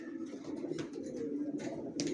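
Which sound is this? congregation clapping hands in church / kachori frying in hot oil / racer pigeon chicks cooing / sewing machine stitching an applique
racer pigeon chicks cooing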